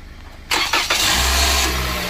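A Toyota Corolla with a dead battery, jump-started, cranks in a few quick bursts after a quiet lead-in, then catches and settles into a steady, close idle.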